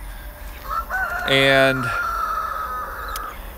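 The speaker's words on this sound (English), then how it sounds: "we got three roosters right now in there" Roosters on a small farm, several kept together, give a loud close crow that rises and holds, with clucking and a brief spoken word around it.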